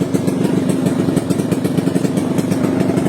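Pit bike motorcycle engine running close by, a loud, even, rapid popping putter that holds steady for the few seconds without pause or talking.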